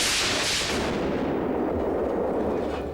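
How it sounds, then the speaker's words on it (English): Missiles launch from a leg cast gadget in the James Bond film GoldenEye, a loud sustained blast of rushing, roaring fire that fills the whole moment and slowly thins out, with no voices over it. "this cast fires deadly missiles"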